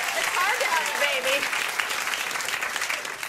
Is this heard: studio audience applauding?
yes